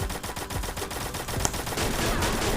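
Gunfire in the Free Fire video game, a quick run of sharp shots fired in rapid succession over a busy, noisy game soundtrack.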